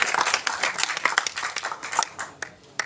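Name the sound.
audience clapping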